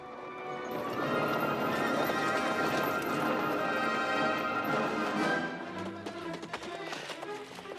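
Australian light horse cavalry gallop in a desert battle scene, massed hooves thundering loudly with repeated neighs and whinnies over the top before the charge thins out toward the end.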